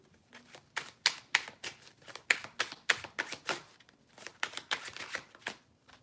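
Tarot cards shuffled by hand, a quick run of crisp riffling slaps and flicks in uneven bursts, close and fairly loud, with a short pause before the shuffling resumes.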